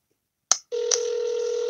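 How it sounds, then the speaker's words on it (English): A telephone call rings out on the line: a brief click, then a steady, continuous ringback tone heard clearly and alone, with no talking. "I hear it ringing"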